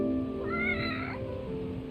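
A cat in the video game Lost Judgment gives one clear, drawn-out meow lasting about a second, over a steady hum of game background sound.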